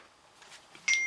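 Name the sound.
phone beep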